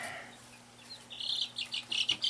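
Chicks in an indoor brooder give several bright, high chirps that come in quick bursts, growing denser toward the end over a faint steady hum.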